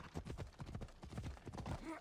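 Horse hooves clip-clop in a quick, steady galloping rhythm in Assassin's Creed Odyssey, close and continuous for about two seconds.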